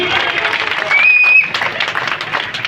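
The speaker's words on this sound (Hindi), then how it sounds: "आपकी कमजोर तालियां कविता को कमजोर कर देगी।" An audience at a Ganesh Chaturthi poet gathering in Kishangarh Renwal claps moderately, the applause mixed with crowd noise and a brief high whistle-like tone in the middle.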